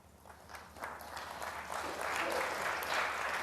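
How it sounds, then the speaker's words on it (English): A light smattering of applause from a snooker crowd at the Players Championship final, soft scattered clapping that builds gradually in a quiet arena, fairly distant and modest in volume. "There's a little smattering of applause for frame ball."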